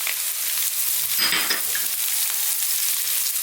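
Curry leaves and garlic ginger paste hit hot oil in a pan with a bright, continuous sizzle that swells loudly for a moment as they go in, then settles into a steady frying hiss.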